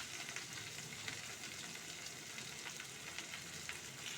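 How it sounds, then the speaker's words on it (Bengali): Spring onions and eggplant frying in a pan while being stirred, giving a faint, even sizzle with light scraping throughout and no voices. "পেঁয়াজকলি আর বেগুনটা দিয়ে একটু নাড়াচাড়া করে"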